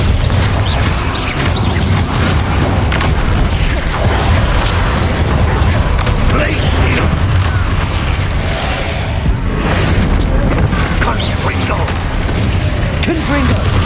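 Spell blasts from the Bombarda curse in the video game Hogwarts Legacy, heavy booming explosions and crashing bursts repeating throughout a loud, dense battle, with a voice shouting spell names over the chaos.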